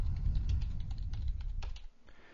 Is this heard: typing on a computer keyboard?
yes